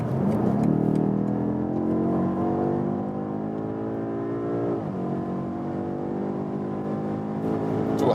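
A 625 hp 2020 BMW M8 Gran Coupé in M1 mode pulls hard from highway speed, its engine note climbing steadily through gears with a brief shift dip, loud and close from inside the cabin.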